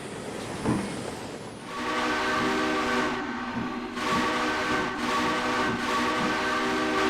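Locomotive in a railroad video game set on Illinois rails, rumbling steadily while its whistle or horn sounds in several long, loud, tonal blasts.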